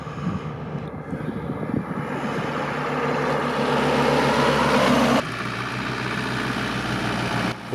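A Land Rover 109 engine drones steadily while driving on asphalt, the rumble building in the middle and then dropping to a lower, even tone near the end.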